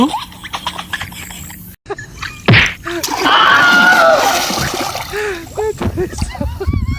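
Water thrown and splashing, a loud burst of splatter lasting a couple of seconds, with sharp knocks and excited voices shouting around it.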